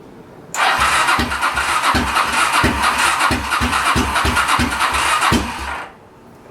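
A Honda VT700 motorcycle engine on a budget bobber build cranks with a rhythmic chugging starter, then catches into a loud, rough idle close by, running for several seconds before cutting off abruptly.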